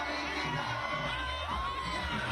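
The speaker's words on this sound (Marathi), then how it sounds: "मराठा बांधवांकडून उपकरणं फडकवून पाठिंबा दर्शवला जातोय, जल्लोष केला जातोय" Maratha protesters at Azad Maidan in Mumbai, waving saffron flags in support of Jarange's agitation, raise a steady roar of crowd noise with cheering and shouts rising over a dense murmur of many voices.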